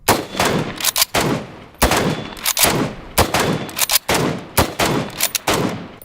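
Rifle shots fired one at a time as a bolt action, without a suppressor, in four loud, sharp blasts spaced about 1.2 seconds apart, each followed by a brief ringing decay and faint clatter between shots.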